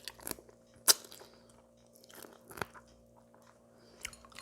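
Braised pork ribs with aged kimchi are eaten up close, with crisp bites and chewing crunches at irregular intervals over a quiet background, and no talking.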